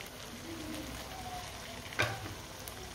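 Boiled potatoes and peas stirred and mixed together in a pan, a steady soft sizzling and scraping hiss throughout, with one brief louder clink of a utensil near the middle.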